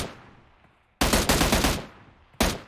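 Automatic gunfire in the battle royale game PUBG Mobile: a loud, rapid burst of shots lasting about a second, then a short second burst, with no talking.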